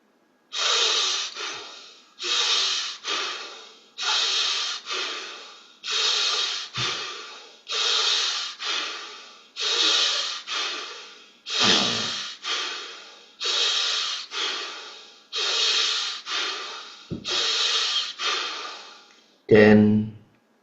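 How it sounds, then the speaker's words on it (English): Rapid forceful breathing exercise done in a yoga practice: close, loud bursts of sharp nasal breaths in repeated rounds, each round a fast run of puffs followed by a short pause, then a final deep inhale. "Just hold for a moment, stop, and do the remaining 12 breaths."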